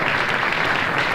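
A nightclub audience applauds drag comedian Ty Bennett at a 1961 show, a dense, steady patter of clapping heard up close with no voices.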